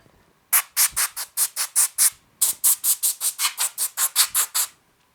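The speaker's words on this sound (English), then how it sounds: "So I'm going to blow this off with my air compressor real quick." An air compressor nozzle blows off a turned ash wooden bowl with a knot. About seventeen short, sharp air blasts come in two rapid rhythmic runs, loud and close, with a brief pause between them.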